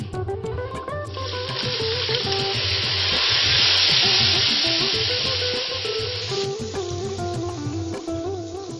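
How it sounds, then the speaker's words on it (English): Hot tadka poured into a pot of Udupi-style cucumber sambar sets off a sizzle that swells to a loud hiss and then settles, with background music playing throughout. "we'll add this tadka into the sambar"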